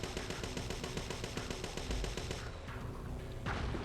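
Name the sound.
gunfire from the video game Parasite Eve II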